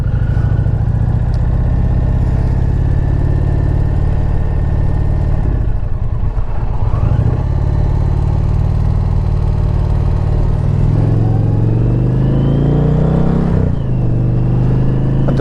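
A 2021 Indian Challenger Limited motorcycle engine drones loud and steady while riding, its pitch shifting as the bike slows, shifts and picks up speed again, with wind rushing throughout.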